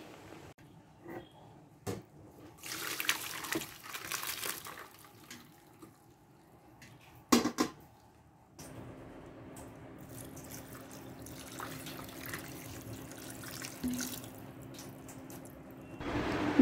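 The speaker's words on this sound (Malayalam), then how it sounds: "ഇതിനി സ്ട്രെയിൻ ചെയ്തെടുക്കണം. എന്നിട്ട് കുറച്ച് തണുത്ത വെള്ളം കൂടി ഇതിൻ്റെ മേലെ കൂടെ ഒഴിച്ചാൽ" Cold water poured over strained cooked noodles for a Kalimpong-style noodle dish runs steadily into a sink, with a few earlier splashes and clatters before a continuous tap-like stream takes over, close and moderately loud.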